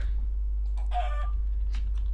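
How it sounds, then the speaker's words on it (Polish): A chicken in the Minecraft video game gives a short burst of clucking over a steady low hum, then a fainter cluck follows a moment later. "Tutaj jest dużo kurczaków."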